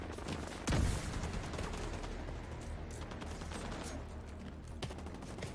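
Gunfire in the video game The Division 2: one sharp shot near the start and a softer one later, both over a steady low battle rumble.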